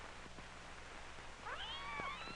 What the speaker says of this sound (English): Mary Ann sees the kitten.